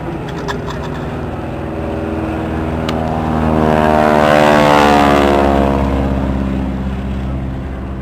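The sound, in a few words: Breitling Wingwalkers aircraft flying past at airshow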